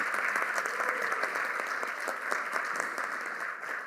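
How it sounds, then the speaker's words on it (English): Steady, dense audience applause for the Board of Education at the School District of Philadelphia's State of Schools 2025 event, many hands clapping together at an even level for about four seconds with no talk. "Let's give the board one more round of applause, please."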